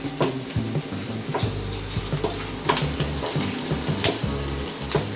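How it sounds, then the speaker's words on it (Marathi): Grated coconut fries in a hot pan for home-style misal, giving a steady, dense sizzle with scattered light clinks of a utensil against the metal throughout. "आता हे खोबरं टाकून घेते, थोडं तळून घेते खोबरं."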